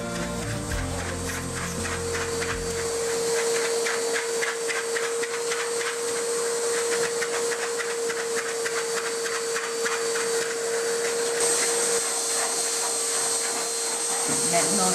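A pet blow dryer hisses and roars steadily while drying a Labrador after a spa treatment, loud and continuous with a constant whine, and a voice speaks faintly under it.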